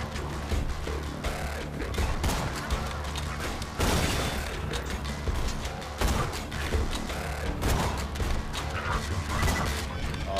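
A Badass Loader robot in the video game Borderlands 2 unleashes rockets and gunfire: a loud, continuous barrage of blasts, rattling shots and mechanical clanks that barely lets up, with no voices.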